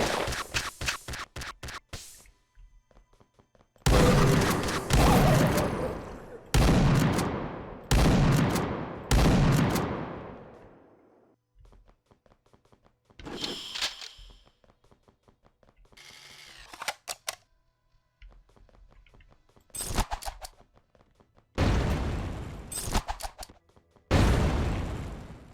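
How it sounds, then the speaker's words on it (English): Rocket launcher blasts and gunfire in an FPS Creator shooter game, sharp loud bursts in clusters separated by quiet gaps, some with short decaying tails. "These spiders ain't no match for a rocket launcher."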